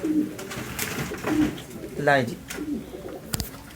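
Pigeons kept by a fancier give soft, repeated coos amid bird calls, while someone talks nearby over the cooing.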